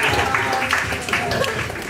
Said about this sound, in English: Clap it up for yourself again